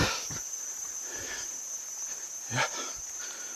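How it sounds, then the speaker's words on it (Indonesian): Cicadas at dusk in the Cilengkrang valley, Kuningan, give a steady high-pitched shrill buzz throughout, with a few nearby rustles and a brief spoken word over it. "sudah ada tonggeret"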